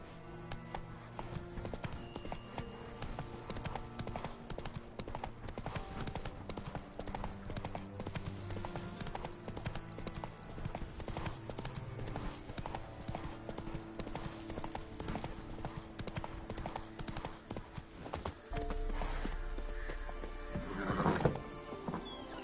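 Hoofbeats of the horse Roach in the video game The Witcher 3, a steady clip-clop running under dense game music and ambience at low level, with a brief whinny-like swell near the end.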